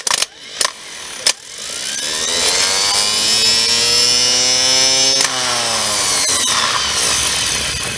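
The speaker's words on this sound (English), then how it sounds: "you jump across the solenoid wire, the S screw, and the starter jumps to life and goes" An electric starter motor, jumped directly across its solenoid terminal on the bench, whines up to speed with a rising, steady spin after a few sharp clicks, loud and close, then holds a high-pitched run.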